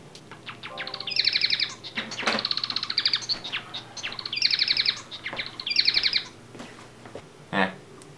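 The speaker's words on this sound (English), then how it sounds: "Oh, and a bird." Repeated bright bird chirps come in short bursts with gaps between them, fairly close. A brief voice is heard near the end.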